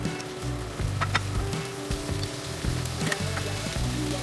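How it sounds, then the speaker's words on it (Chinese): Pork sizzles steadily in a frying pan as its fat renders, a dense continuous crackle with faint clinks of a utensil against the pan. "先把肉煎一下，"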